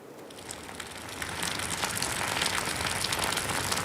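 Heavy monsoon rain falls across Delhi in a dense, steady hiss that swells slightly and stays loud throughout, with no voices.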